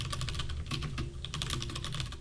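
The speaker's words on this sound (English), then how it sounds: "this is just me typing a word" Rapid keystrokes on a computer keyboard while entering text in the Vim editor, a steady close clatter of clicks with a low background hum and no talking.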